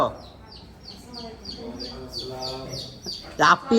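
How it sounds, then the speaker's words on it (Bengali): High, rapid peeping of young chicks repeats in short bursts, with a louder squawk near the end and faint voices in the background. "ওরে মুরগির বাচ্চা দেখে, মুরগির বাচ্চা"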